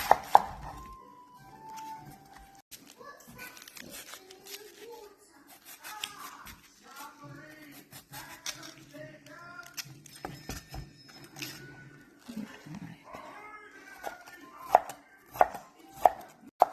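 A knife chops cabbage, onion and green chilli on a board for Kerala thoran, with quick irregular knocks and clusters of cuts. A voice talks intermittently alongside, and a few louder chops land near the end.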